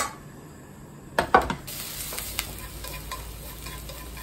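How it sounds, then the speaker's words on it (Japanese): Garlic sizzles in a small amount of oil in a frying pan, a steady hiss broken by a few sharp crackles and stirring scrapes near the start, continuing as a constant sizzle with no talking. "ニンニクがね、ジリジリってしてきて、ね、結構いい香りがしてきました。"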